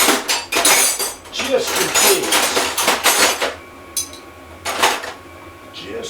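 Metal tools clatter and clank while someone rummages for a 9/16 wrench in a garage, loud irregular bursts of clinking and rattling with brief pauses, a voice speaking briefly over the noise.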